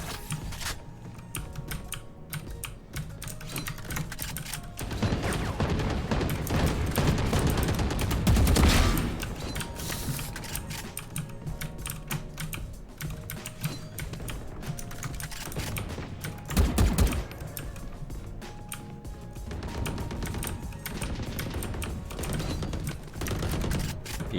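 Gunfire in a shooting video game comes as rapid clattering bursts under a dense keyboard-like tapping, with a few louder volleys standing out among the steady fast clicks and no voices.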